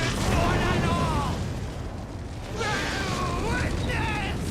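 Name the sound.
cannon fire explosions in video game Elden Ring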